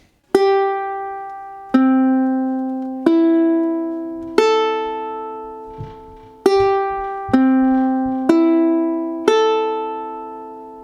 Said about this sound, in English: Let's start out by making sure our uke's in tune.